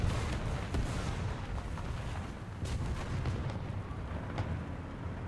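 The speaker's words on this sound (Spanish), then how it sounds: "Va a esperar que caiga la artillería." Artillery shells land during a War Thunder tank battle, giving a steady rumble broken by several deep booms and sharp bursts that sound distant and fairly faint, with no talking.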